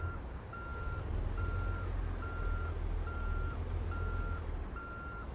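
A truck backing up a trailer in American Truck Simulator sounds its reversing alarm: steady, evenly spaced beeps repeating about six times over a low engine rumble, with no talk.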